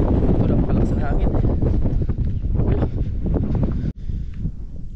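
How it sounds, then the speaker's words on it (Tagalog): Strong wind buffets the microphone on a hilltop during a mountain climb, a loud continuous rumble with gusts that briefly drop out near the end. "Ito napakalakas ang hangin."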